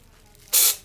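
A single short burst of hissing spray from a powder coating spray gun, loud and close, lasting a fraction of a second before tapering off.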